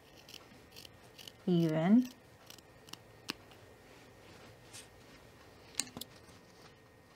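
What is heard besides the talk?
scissors trimming fleece fabric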